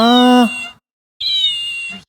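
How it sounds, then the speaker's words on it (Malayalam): Two electronic meows from a toy cat, a lower squeaky one and then a higher, thinner one, separated by a brief silence. "ഇതുപോലെ ഒച്ചുണ്ടാക്കുന്ന പൂച്ചക്കുട്ടികൾ"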